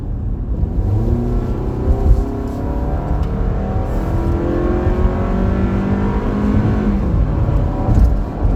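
A 2019 Toyota RAV4 engine revs and accelerates steadily into traffic, rising whir close by with no voices, holding a strong continuous drone throughout.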